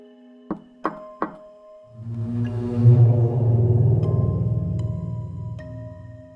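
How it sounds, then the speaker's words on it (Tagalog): Three quick, soft knocks on a wooden confessional door sound close together, followed by a swelling low, droning tone that lingers. "Sinundan ito ng 3 mahihinang katok sa pinto ng kumpisalan."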